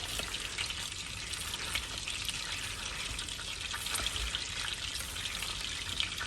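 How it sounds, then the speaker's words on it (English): Apple pie filling with oatmeal is stirred in a pan, giving a steady, dense sizzle with soft scraping throughout, close and even, with no talking. "So I'm going to go ahead and give this a stir."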